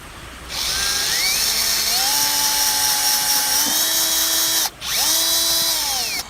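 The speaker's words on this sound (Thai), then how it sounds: "เดี๋ยวเราเจาะกันดูใหม่อีกครั้งหนึ่งว่า มันมีแก่นจริง ๆ หรือเปล่านะครับ" Power drill boring into three-year-old Huang Hua Li (rosewood) timber in Nan, Thailand, a loud steady whine rising in pitch as it bites, cutting out briefly near the end before spinning up again.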